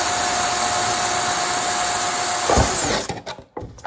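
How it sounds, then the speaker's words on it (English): A power drill whines steadily up close while boring drainage holes in a plastic milk jug, then cuts off, leaving a few short clicks and handling knocks. "I am going to use a drill"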